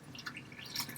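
Milk and water poured together into a measuring cup, a soft close liquid trickle and dripping lasting about a second with no voices.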